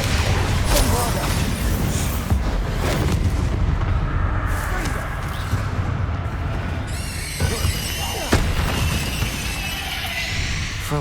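Bombarda explosion spell cast in Hogwarts Legacy: heavy booming blasts and crashing impacts recur throughout amid continuous loud combat noise, with a few sharper bangs near the end.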